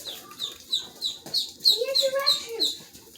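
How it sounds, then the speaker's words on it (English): Baby ducks chirp in a quick, steady run of high, bright peeps roughly every quarter second, close by, with a lower murmur of talk and kitchen noise underneath while mole is being made. "Sorry about the chirping."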